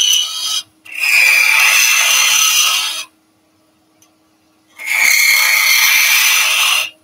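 A wood lathe tool hollows out a turned wooden baby rattle in two loud, sustained bursts of bright scraping and cutting, with a short quiet pause between them.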